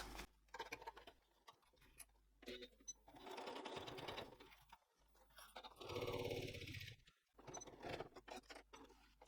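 A sewing machine stitches a gusset on a cork wallet, its fast needle chatter running in bursts of several seconds that stop and start between quiet pauses, with the loudest run near the end.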